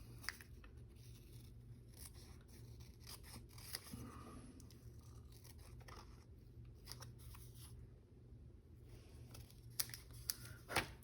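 Scissors snip and trim paper close up in quiet, irregular cuts, with soft rustling and handling between strokes.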